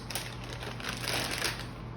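Scissors score a plastic piping bag with a piping tip pushed inside it, giving a close, dry, crinkly scratching and rustling that runs steadily for about two seconds with no talking.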